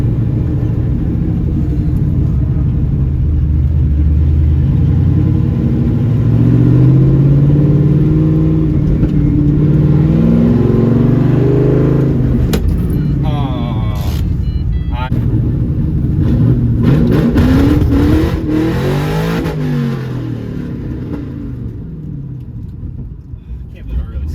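A 2004 Pontiac GTO engine revs with the e-brake pulled, loud rising and falling roars and rumbles close by, with people talking over and between the revs.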